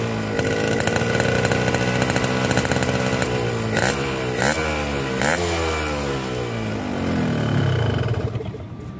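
Yamaha RX King two-stroke motorcycle engine idling and blipping after a carbon cleaner treatment, a loud raspy buzzing drone with several quick throttle revs in the middle, heard close up with no talk.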